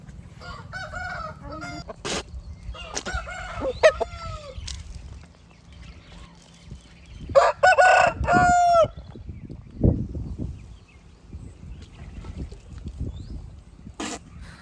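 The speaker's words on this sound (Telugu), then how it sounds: "కోడి పందాల కింద వచ్చే సంవత్సరం సంక్రాంతికి సిద్ధంగా అవుతున్నాయి అనమాట కోళ్ళు" Several fighting roosters crow from close and mid distance, separate calls spread across the stretch with clucking and a low background hum between them.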